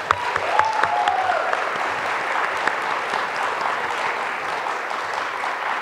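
A crowd at an awards ceremony claps steadily for several seconds, a dense, even round of applause with no voices over it.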